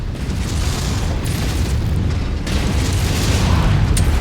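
Missile salvo explosions destroy a mech in a video game, a loud, continuous rumbling barrage of booms and bursts that never lets up.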